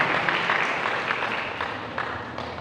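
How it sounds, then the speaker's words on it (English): Church congregation applauding a newlywed couple at their wedding ceremony, a steady wash of many hands clapping at moderate distance, fairly even throughout with no voices on top. "let us give them a round of applause"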